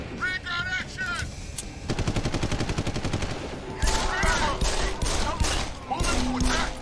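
Ray gun gunfire in the video game Deus Ex Human Revolution comes as rapid bursts of shots and crackling weapon noise, loud and continuous, with voices calling out at times.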